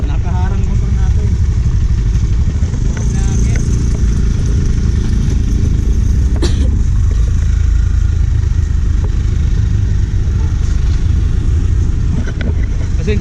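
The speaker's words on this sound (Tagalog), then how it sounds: "medyo maingay yung truck" Loud, rumbling truck engine running nearby outdoors, a constant heavy drone with wind buffeting, masking the surroundings for the whole stretch.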